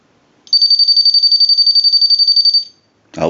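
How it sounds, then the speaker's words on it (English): After a short quiet pause, the piezo buzzer in a Ferrari telephone base unit rings a piercing, fast-trilling high tone for about two seconds, then stops abruptly before a brief rustle. "I'm going to ring this telephone."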